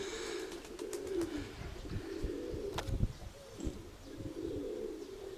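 Pigeons coo softly and repeatedly, low throaty calls close by, with a few faint chirps and rustles around them.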